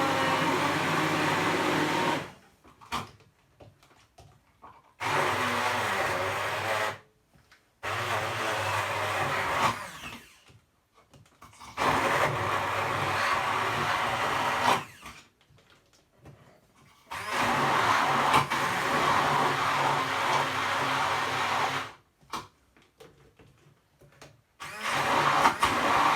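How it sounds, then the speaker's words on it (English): Kitchen blender pulsing through aubergine brownie batter in several loud whirring bursts of a few seconds each, separated by short silent pauses. "Get ready with our blender, and we're going to blend this all down"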